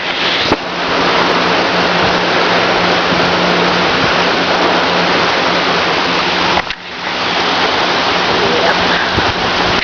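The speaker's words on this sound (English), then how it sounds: "thunderstorm" Heavy thunderstorm rain pours down outdoors as a loud, dense, continuous roar that briefly dips partway through before surging back.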